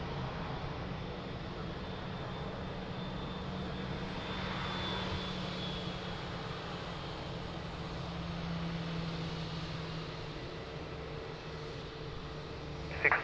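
Jet airliner engines at Lisbon Airport spool up for takeoff in a steady, distant broadband roar with a sustained tonal whine, ending in a short sharp click.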